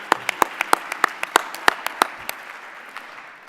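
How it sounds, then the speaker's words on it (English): Sparse, distinct hand claps from a small audience at a 2016 AEMC summit closing session, a dozen or so sharp claps at first that thin out and fade into a quiet room. "So let's give Deborah a big round of applause."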